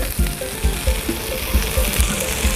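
Roasted chili paste goes into a frying pan with pork sausage (moo yor), sizzling loudly up close with a steady run of repeated soft stirring or scraping thumps.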